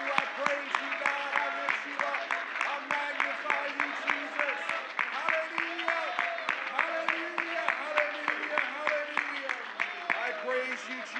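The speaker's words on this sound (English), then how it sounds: "Why don't we clap our hands and give God a shout of praise?" A church congregation claps in a brisk, regular rhythm during a worship service, the steady beats mixed with shouting and voices throughout.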